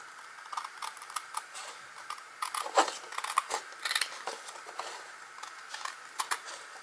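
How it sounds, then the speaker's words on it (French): Scissors trim excess paper from a handmade greeting card, a string of light snipping and rustling sounds close by, quiet and irregular, with no talking. "on va couper l'excédent."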